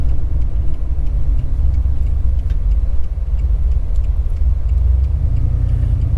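A turbocharged 2012 Chevy Caprice drives along with a steady, loud low rumble of engine and road noise throughout, faint ticking sounds scattered over it and no voices.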